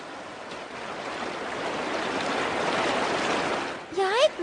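A river flows steadily in an animated cartoon, a broad even rushing wash of water that swells slightly, then gives way to short squeaky animated sounds at the end.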